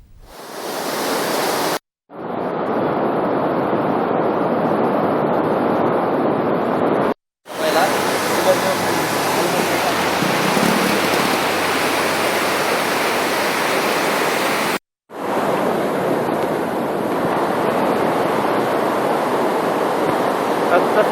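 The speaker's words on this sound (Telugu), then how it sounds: "భారీ వర్షాల కారణంగా అనేక నదులు ఉధృతంగా ప్రవహిస్తున్నాయి" Rivers in spate after heavy rain in Maharashtra rush as a loud, continuous roar of torrential water, broken by brief cuts between shots, with no voices over it.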